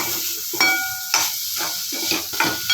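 Melukku varatti, a dry vegetable stir-fry, crackles in a pan with a loud close sizzle broken by several quick stirring scrapes and clinks of a spoon against metal.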